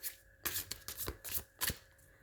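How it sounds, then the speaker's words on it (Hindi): A brand-new tarot deck being shuffled in several quick riffling bursts with short pauses between them, close and fairly quiet, with no talking. "let me shuffle the cards"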